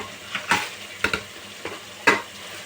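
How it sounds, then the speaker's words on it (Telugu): Coriander and mint hit a tomato masala frying in a pan, a soft background sizzle broken by a few sharp spoon-against-pan scrapes and clinks, spaced irregularly. "ఇప్పుడండి నేను కొత్తిమీర పుదీనా వేస్తాను"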